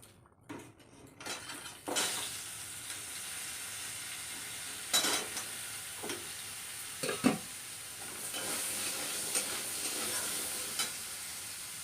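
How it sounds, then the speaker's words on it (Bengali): Vegetables fry lightly in a pan with a steady broadband sizzle, broken by occasional louder scrapes and clinks of a spoon stirring against the pan; no voices. "সব সবজিগুলোকে হালকা হালকা করে ভেজে নেব"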